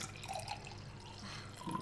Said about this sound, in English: We pour wine as we talk.